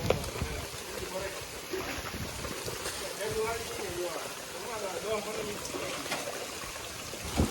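The season's first monsoon rain falls on a farm as a steady, broadband hiss that carries through the whole stretch, with voices talking over it.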